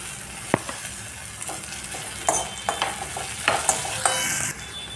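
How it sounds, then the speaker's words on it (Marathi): Chopped onion with a pinch of asafoetida and finely cut tomato sautéing in a pan, a steady soft sizzle broken by a series of light scraping stirs that grow busier toward the end, close but fairly quiet, with no talk. "कांदा परतत आला आहे तर आता त्यामध्ये बारीक कट केलेला टॉमॅटो ॲड केला आहे"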